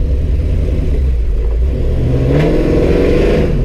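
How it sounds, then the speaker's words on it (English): A 1970 Chevrolet Camaro with a 427 engine revs under a light blip of throttle, giving a loud, steady, close-up rumble that holds evenly throughout with no talking. "just give it like a little bit of throttle as if you're going to peel out"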